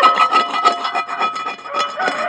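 A wire brush scrapes rust off a Lodge #8 cast iron skillet in short, rhythmic rasping strokes, close and fairly loud, with no talking.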